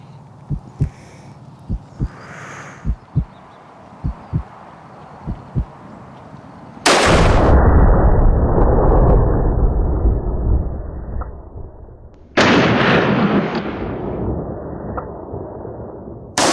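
Two very loud blasts from a .50 caliber pistol firing expanding bullets at an outdoor shooting range, each a sharp crack followed by a long booming decay, after a stretch of quieter clicks and handling knocks.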